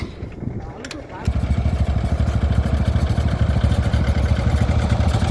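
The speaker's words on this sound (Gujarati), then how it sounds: "આ સંજય ગમે તેમ કીકો મારજે પણ લાગતું નહીં સંજય બાઇક ચાલુ થાય" Motorcycle engine on a village road near a flooded river in monsoon, starting up after a moment and then idling with a steady, close, rhythmic chugging putter.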